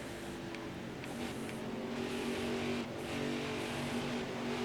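Race car engine in NASCAR Heat 5 during an Xfinity race at New Hampshire, a steady loud drone with layered harmonics that eases slightly as the throttle lifts, continuous with no pauses.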